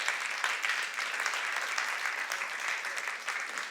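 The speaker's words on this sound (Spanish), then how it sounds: "Denle un aplauso al Señor" Applause from a church congregation at a Good Friday evening service, many people clapping in a full, continuous roar that holds steady for several seconds without speech.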